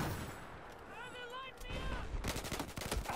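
Rapid bursts of M16A4 rifle fire in Battlefield 4 crack through a noisy battlefield, with a quick run of shots near the end, a voice briefly heard alongside.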